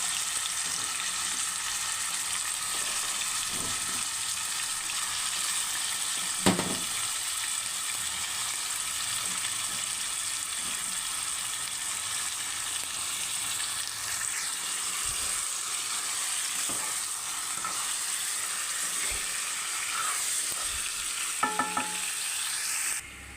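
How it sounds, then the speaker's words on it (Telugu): Mutton pieces and green chilies fry in hot oil for a Telangana-style curry, a steady close sizzle lasting throughout, with occasional scrapes and knocks of stirring. "ఆయిల్ హీట్ అయిన తర్వాత పచ్చిమిర్చి ముక్కలు మటన్ ముక్కల్ని వేసి కలుపుకోవాలి"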